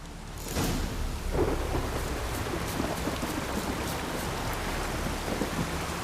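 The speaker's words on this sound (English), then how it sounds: "I love the rain." Steady rain from The Witcher 3 falls continuously, with rolling thunder breaking in near the start and lingering under a dense, even downpour.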